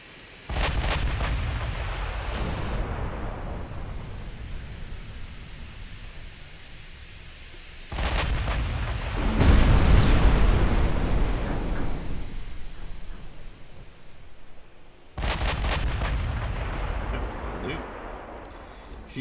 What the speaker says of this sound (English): Let's try and get 6 guns firing for you.